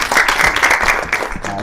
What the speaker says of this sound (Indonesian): Kasih tepuk tangan lagi sekali sama Dewo